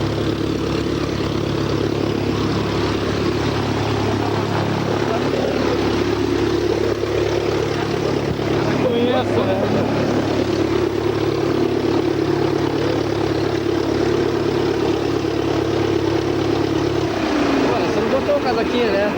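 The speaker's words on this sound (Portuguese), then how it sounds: "Vamos agora pousar no Aeroclube do Paraná." Light aircraft engine droning steadily on approach to land at Aeroclube do Paraná, a continuous propeller hum under talk, easing near the end.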